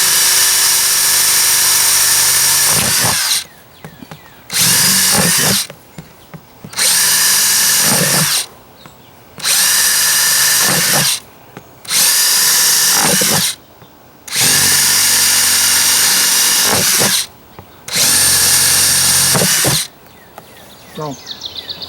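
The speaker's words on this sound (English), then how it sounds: "Got a 3/4 inch drill. And I got to put some water holes in them." A power drill with a 3/4 inch bit whines loudly in repeated bursts of a couple of seconds each, boring drainage holes in plant containers, with short pauses between, nearby and otherwise alone.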